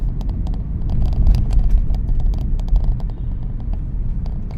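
Heavy road traffic crawls beneath a skyway between Caloocan and Sta. Mesa, a dense, continuous rumble of nearby engines with scattered clicks and swells as vehicles inch past, and no talk.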